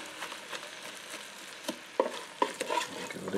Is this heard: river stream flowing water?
no